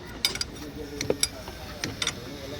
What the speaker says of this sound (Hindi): अभी हम इसको खोलेंगे, ये 17 का ऊपर का है इस नट को